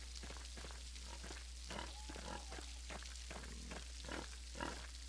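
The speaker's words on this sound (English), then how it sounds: "Man, those are some big pigs." Large pigs in the video game Pentiment grunt and oink in a series of short rough snorts, several overlapping bursts at a steady pace over a constant low background hum.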